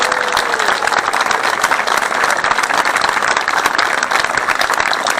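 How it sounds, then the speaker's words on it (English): Loud, sustained applause from a concert audience at a WaterAid Gloucestershire choir performance, dense clapping that fills the hall evenly from start to finish. "Please give them a round of applause."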